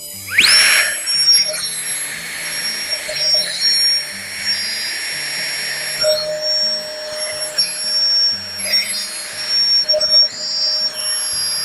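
An electric pump inflates a camping air mattress, a loud continuous whining drone that starts abruptly and holds steady throughout, with no talking.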